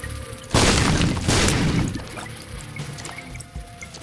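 A bomb goes off in The Binding of Isaac with a sudden loud boom and a crumbling, rumbling tail that trails away over a couple of seconds, with no talk over it.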